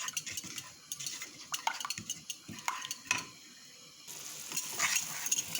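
Ingredients frying in a pan with koshari tomato sauce while a utensil stirs and scrapes, giving soft clinks and scrapes over a steady sizzle that grows brighter toward the end.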